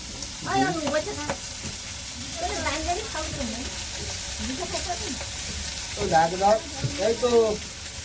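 Fish sizzles steadily in hot oil, a continuous crackling hiss, while people talk intermittently over it.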